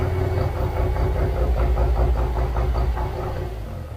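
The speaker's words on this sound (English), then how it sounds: "To get that nice rotary beat" A loud bridgeport-ported Mazda rotary engine with a Weber carburettor idles steadily with a lumpy, rhythmic pulsing beat, heard up close and alone.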